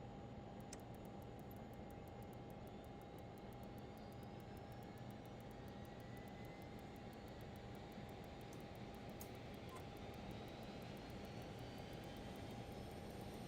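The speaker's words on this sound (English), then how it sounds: "Other engine coming on." A Learjet 35 jet engine starting up in a flight simulator game: a steady, continuous roar with a sustained whine that holds even across the whole stretch, with no talking.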